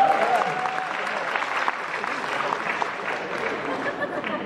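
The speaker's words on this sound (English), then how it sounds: "Just give him applause." Steady applause fills the whole stretch, a room of people clapping continuously at an even level at a smartphone launch event.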